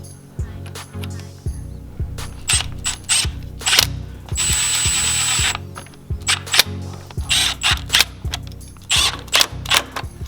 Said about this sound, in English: we're using an 8mm socket to tighten the hose clamps down